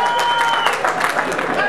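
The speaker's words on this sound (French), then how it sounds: "Et je vous propose de vous applaudir parce que vous le voulez bien." An audience applauds at a memorial challenge event, a brief burst of dense clapping with some cheering mixed in, fairly loud and close.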